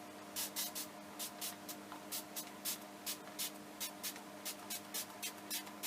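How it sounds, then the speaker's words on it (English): A continuous water spray bottle spritzes in quick repeated bursts over art journal paint, a rhythmic series of short hissing pumps over a low steady background hum. "I just have water in my continuous spray bottle."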